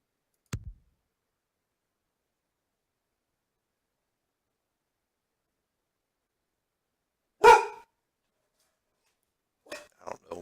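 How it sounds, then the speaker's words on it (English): A dog gives a single loud bark after long silence, followed by a couple of softer, shorter yelps or barks; a brief click sounds near the start. "I don't know why my dog's barking."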